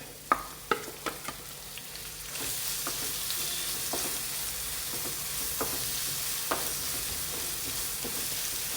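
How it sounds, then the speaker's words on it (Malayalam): Crushed masala hitting hot coconut oil for mackerel fry, a few sharp clinks of a spoon on the pan, then a steady close sizzle and frying hiss with occasional stirring taps. "ആ മസാല ചതച്ച് വെച്ചിരിക്കുന്നത് ഇതിലേക്ക് ചേർത്തിട്ട് നന്നായിട്ടൊന്ന് ഫ്രൈ ചെയ്തെടുക്കാം"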